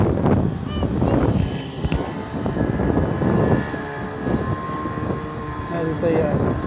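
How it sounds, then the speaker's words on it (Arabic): A steady engine drone of an airplane passing overhead, mixed with wind buffeting the microphone and people talking nearby. "هذه طيارة."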